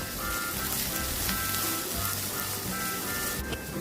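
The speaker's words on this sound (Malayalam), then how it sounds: "ഒരു കാൽ സ്പൂൺ ഉപ്പും കൂടി ഇട്ട് കൊടുത്ത് നന്നായിട്ടൊന്ന് വഴറ്റിയെടുക്കാം" Beans and chopped vegetables with a little salt sauté in a pan over a low flame, giving a steady soft sizzle with faint crackles throughout.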